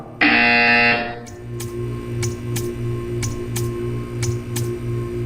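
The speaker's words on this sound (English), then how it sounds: "You will hear a buzzer." A loud, steady electronic buzzer in a Portal game sounds for about a second, then stops, followed by a quieter run of regular ticking clicks.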